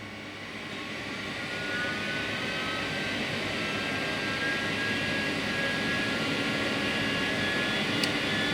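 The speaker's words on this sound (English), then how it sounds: "Right, let's put some extraction on." A fume extraction fan on a 60-watt laser cutter cutting acrylic spins up into a loud, steady, jet-like roar that holds constant and close.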